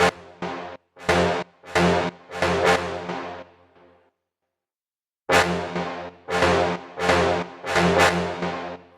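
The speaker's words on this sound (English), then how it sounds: "Let's try the gate." A sustained brass tone chopped into abrupt on-off bursts in a choppy rhythm, with a short silent gap midway before the gated pulses resume.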